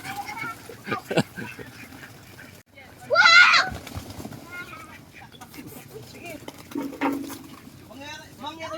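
Male ducks quacking in a corner pen, a short loud burst of calls among scattered farmyard clatter, with people talking nearby throughout.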